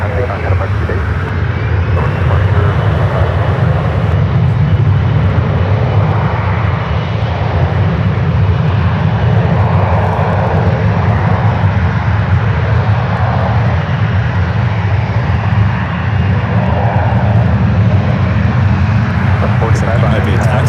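Airliner engine roar from San Francisco airport during takeoff, a steady loud low rumble holding for the full stretch, with radio chatter and talk faintly over it.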